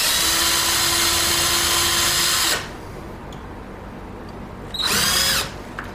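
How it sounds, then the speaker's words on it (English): Power drill boring pilot holes in timber for a mortice lockset, two bursts of high whining motor noise, the first long and steady and the second shorter after a quiet pause, close and loud. "All our pilot holes drilled."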